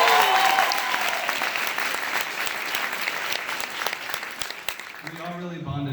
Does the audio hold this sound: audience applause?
yes